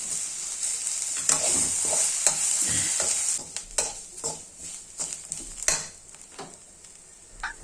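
Spices and chilli powder fry and sizzle in a pan for crab curry, with steady stirring scrapes and a few clinks of a spoon against the metal, close and fairly loud throughout.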